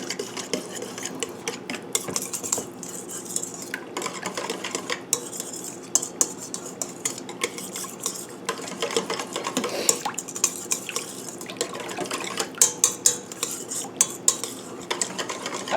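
Spoon clinking and scraping against a bowl while stirring and blending herbed batter bread ingredients, a steady run of close, irregular metallic taps and swishes with no talking.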